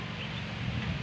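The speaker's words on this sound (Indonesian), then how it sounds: "anginnya sangat kencang" Strong, steady wind blows in the dry season at Kubu, Rokan Hilir, a loud continuous rushing roar buffeting the microphone, with no speech.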